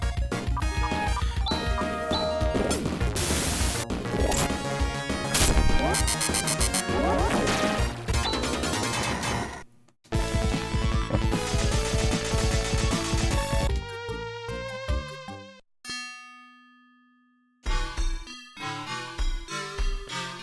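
Sega Genesis sound effects from Phantasy Star IV, a dense FM-synth burst of clangs, crashes and chiptune tones that cuts off abruptly several times, then returns with a sustained single tone and further bleeps.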